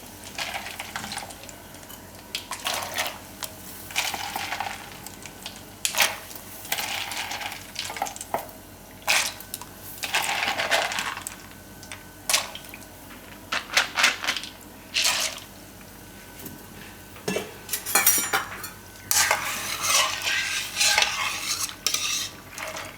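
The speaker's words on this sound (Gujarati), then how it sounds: "તો ઉકળતા પાણીમાં નાખી દેવું પાસ્તા." Pasta going into a pot of boiling water and being stirred, with repeated scraping and clinking of a spoon against the pot in irregular bursts, fairly close and with no talking.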